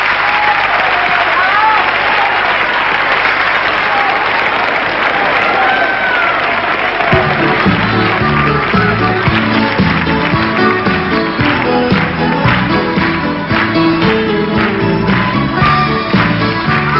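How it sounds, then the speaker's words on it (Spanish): Audience applauding a singer and his brothers performing together on stage, a loud sustained crowd clapping that carries on as music begins underneath. "Se merecen el mejor aplauso de todos nosotros."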